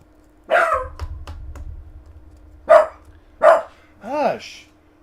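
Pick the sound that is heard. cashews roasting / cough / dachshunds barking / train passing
dachshunds barking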